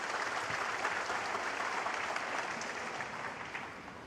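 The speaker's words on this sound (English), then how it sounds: "Applause for frame ball." Snooker spectators at the Shanghai Masters final applaud a frame ball, a soft, steady patter of many hands clapping in a hall, fading slightly toward the end.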